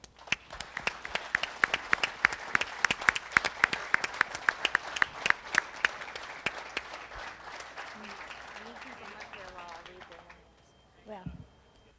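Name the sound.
audience applause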